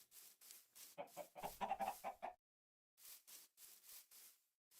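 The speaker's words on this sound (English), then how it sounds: "Hey, chickens." Chickens cluck in the video game Feed the Factory, a quiet run of short repeated clucks, a brief pause, then more clucking.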